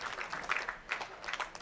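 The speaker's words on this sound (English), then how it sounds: "Big round of applause, well deserved." Faint, steady applause from spectators at the 2015 World Bowling Senior Championships women's singles medal round, a soft, distant patter of many hands clapping.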